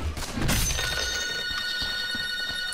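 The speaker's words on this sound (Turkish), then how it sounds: "Telefon çalıyor." Telephone bell ringing steadily in a room during a Dota 2 gaming session, a continuous trilling tone held across the clip over faint background noise.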